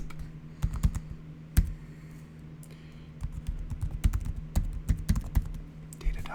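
Computer keyboard keys clatter in uneven bursts during a relaxed coding session, close and fairly quiet, with pauses between runs of typing and soft whispering in the background.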